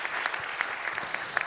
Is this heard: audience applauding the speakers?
yes